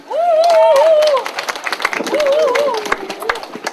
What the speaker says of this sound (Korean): 큰 박수로 맞아 바랍니다